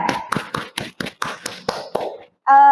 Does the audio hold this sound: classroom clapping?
yes